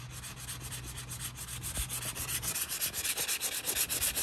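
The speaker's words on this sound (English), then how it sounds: "I'm gonna use this this thing that I came with, and we're going to sand it down" The hand tool from a Heida wood floor and furniture repair kit sands down a wood floor repair, making a steady close rubbing rasp that turns into quick rhythmic back-and-forth strokes, with no talk.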